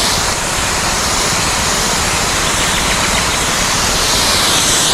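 A loud, steady mechanical drone with a broad hissing spray, continuous and unbroken throughout, like a motorized sprayer running up close, spraying flowering plants.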